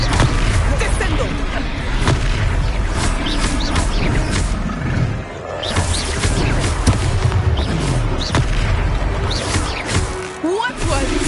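A Descendo spell slams into a foe during a Hogwarts Legacy battle, with heavy booming impacts and roaring creature noise inside a dense, loud combat mix, while voices talk over it.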